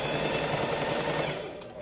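A sewing machine topstitches an open seam on a blouse, its fast even whirring loud and continuous for a moment before slowing slightly at the end.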